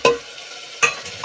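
Masala spices frying and being stirred in a pan for soya matar pulao, with two or three short scraping stirs over a steady, close sizzle and no talking.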